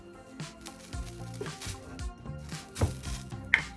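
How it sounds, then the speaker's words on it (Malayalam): About a tablespoon of sesame oil poured into a hot pan for mango pickle, giving a light, crackly sizzle with small pops and clinks, fairly close and moderately quiet. "പാൻ ചൂടായി വരുന്നുണ്ട് ഇനി അതിലേക്ക് ഓയിൽ ഒഴിച്ച് കൊടുക്കുക സെസമി ഓയിലാണ്"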